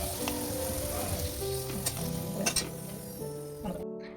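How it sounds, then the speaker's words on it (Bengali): Potatoes frying in oil with salt and turmeric give a loud, continuous sizzle close up, with a few stirring scrapes before it cuts off abruptly. "প্রথমেই আলুগুলো একটু নুন আর হলুদ দিয়ে খুব ভালো করে ভেজে নেব"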